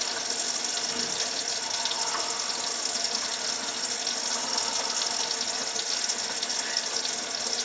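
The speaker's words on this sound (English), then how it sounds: "I'm running the water slow." Slow trickle of tap water running into a backed-up kitchen sink drain, a steady soft hiss and splash that continues without break, fairly quiet and alone.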